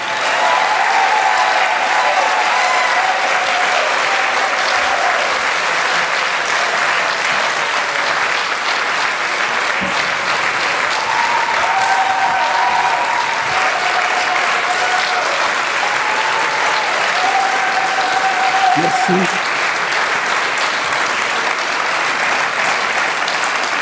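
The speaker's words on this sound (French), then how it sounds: "un tonnerre d'applaudissements pour le docteur Denis Mukwege" Sustained, loud applause from a large audience greeting Dr. Denis Mukwege, a dense unbroken roar of clapping lasting over twenty seconds, with faint voices and whistles mixed in.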